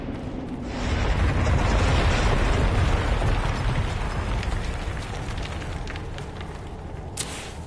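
A Qunari explosive detonates in the Dragon Age Inquisition game, a loud broad rumbling blast that swells after a second and holds, then slowly fades with some crackle and a brief sharp hiss near the end.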